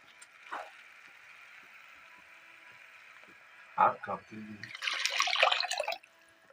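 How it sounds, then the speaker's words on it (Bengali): Water is poured into palak spinach cooking in a pan, a short bright splashing burst near the end after a quiet stretch with a faint hum and a few knocks; a voice speaks briefly. "জল দিয়ে দিয়েছি।"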